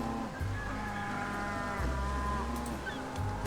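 Cattle mooing inside the medieval strategy game Crusader Kings 3, a steady layered chorus of low bellowing moos blended with game music, continuous and fairly loud throughout.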